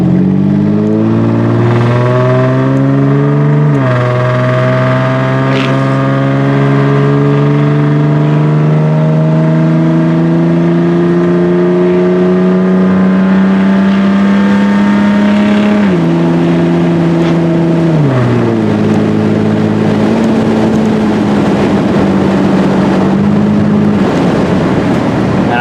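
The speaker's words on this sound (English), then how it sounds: "We're just going to listen to the really loud rumbly exhaust." A Ford Ranger's loud, rumbly exhaust revs up through the gears, a strong low drone rising in pitch and then dropping at each shift. It is close and continuous, with no talk.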